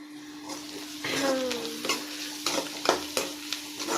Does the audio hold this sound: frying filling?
yes